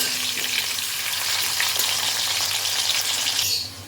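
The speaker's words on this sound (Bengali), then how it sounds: "আলুর টুকরোগুলোকে খানিক্ষণ তেলের মধ্যে একটু ভেজে নিতে হবে" Potato pieces frying in hot oil make a steady, close sizzle that runs unbroken and fairly loud for the whole stretch before easing off at the very end.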